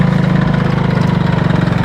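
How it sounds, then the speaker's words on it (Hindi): A tractor engine chugs steadily at close range as it carries villagers home, its fast, even throbbing pulse loud and unbroken, with no talking over it. "ट्रैक्टर से भी ग्रामीण लौट रहे हैं।"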